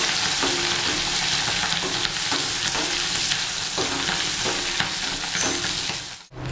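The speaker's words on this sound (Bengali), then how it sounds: "চিংড়ি মাছগুলো আমার ভাজা আছে, সেগুলো আমি ভালো করে একটু ভেজে" Prawns sizzle steadily in plenty of hot oil with cumin, and a spatula scrapes and stirs them in a regular rhythm, close and loud, without any talk.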